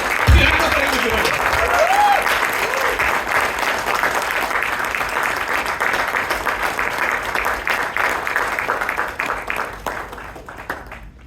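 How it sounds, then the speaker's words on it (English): Audience applause at a Toastmasters meeting in Bangalore fills the room with steady, dense clapping from start to finish, tapering slightly at the end, with a brief voice over it near the start. "One more round of applause for them, please, everybody."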